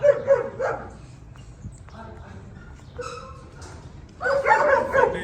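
Dogs bark and yip loudly in short bursts at the start and end, with whimpering in between, while people talk nearby over the noise.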